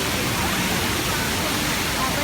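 Toilet flushing in a shopping-centre restroom: a steady, loud rush of water fills the whole moment without letup, with a voice speaking over it.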